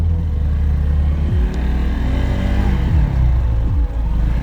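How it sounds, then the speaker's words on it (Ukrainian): A Lifan SR 220 motorcycle with its stock exhaust gives a loud, close, steady engine drone with a few quick rises and dips in pitch as the throttle shifts. "Його рідний вихлоп дуже приємний для вух."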